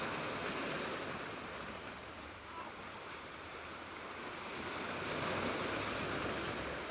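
Sea waves washing onto the shore in a continuous, soft rushing surge that swells and recedes gently, heard from a moderate distance with light wind and no voices.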